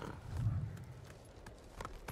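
Horse hooves in the video game Ghost of Tsushima thud in a quick clip-clop rhythm, close and moderately loud, over a low rumbling game soundscape.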